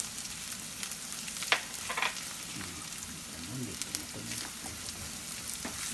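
Onions sauté with plenty of garlic in a pan for pork mung bean stew, a steady close sizzle with occasional stirring clicks and faint low speech in the background.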